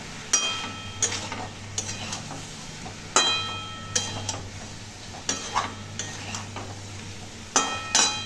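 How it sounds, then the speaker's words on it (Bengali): A spoon stirs aloor dom, a potato curry, in a pan with coriander powder, giving repeated sharp scrapes and clinks against the metal at an uneven rhythm over a soft sizzle. No one speaks. "একটু নাড়া দিয়ে নিই।"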